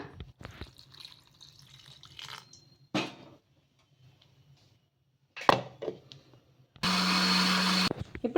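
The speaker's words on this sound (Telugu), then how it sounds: "కొన్ని నీళ్ళు అయితే వేసుకొని మిక్సీ పట్టేసుకోవాలి మెత్తగా" A mixer grinder whirs loudly for about a second near the end, grinding moong dal and oats batter with water, after scattered clinks and handling noises in a quiet room.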